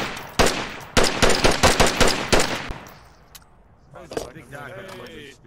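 Burst-fire gun in the VR shooter Onward: a loud single shot, then a run of about seven rhythmic, evenly spaced close shots, fading into quieter clatter and a short flurry near the end.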